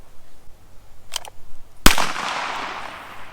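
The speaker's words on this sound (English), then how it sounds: "I'm going to draw the pistol and shoot it out of the air" A single sharp pistol shot at a thrown target in a backyard, preceded by a couple of faint clicks, the crack trailing into a broad outdoor echo with no talking.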